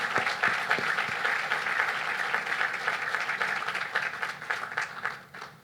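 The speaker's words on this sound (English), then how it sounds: "Another round of applause for your vision and work." Audience applause at a ribbon cutting ceremony for a cancer center, a dense, steady wash of many hands clapping that carries on throughout and thins slightly toward the end.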